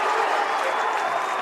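A crowd in a high school gym roars and applauds after a big block in a McLean County versus Muhlenberg basketball game, a steady wash of cheering and clapping.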